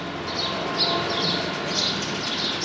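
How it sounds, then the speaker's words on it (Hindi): Faint, repeated high bird chirps ring out over a steady wash of outdoor traffic noise at Ram Jhula, Rishikesh. "और चिड़ियों की इतनी अच्छी आवाज़ लग रही है,"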